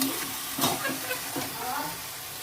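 Spiced marinated meat goes into a pan of fried onions, a close, steady hissing sizzle with a few soft stirring scrapes throughout.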